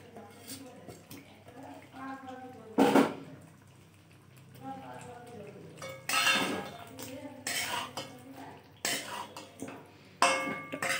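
Potatoes dropped into a pot of chicken korma, making a few loud clattering bursts of metal and cutlery against the pot between quieter stretches, with someone talking throughout.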